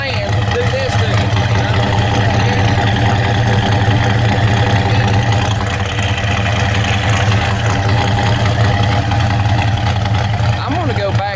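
A car engine fitted with a Holley carburetor idles loudly and steadily with a deep, slightly rich-running rumble while the idle mixture is adjusted, a voice talking over it.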